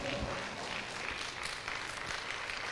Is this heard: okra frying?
no